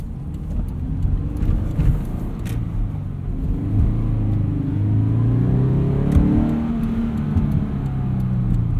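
Subaru BRZ engine with a catted UEL header and stock exhaust, a steady low rumbling drone heard from inside the car, rising and falling gently as it revs.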